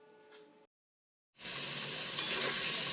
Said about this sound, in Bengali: সব মশলাগুলিকে একসাথে ভালো করে কষিয়ে নেব